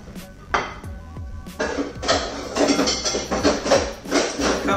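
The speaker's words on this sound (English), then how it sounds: "Just grab a plate." Clatter of a plate being picked up in a home kitchen, with a few sharp knocks of crockery followed by a steady run of close clinks and scraping.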